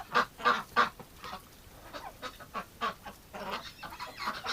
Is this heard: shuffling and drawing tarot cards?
no